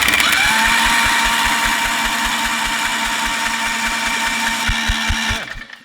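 A dragster engine is cranked over by its starter to check for spark, a loud steady whirring drone with rapid rhythmic thumps from the turning engine, cutting off at the end.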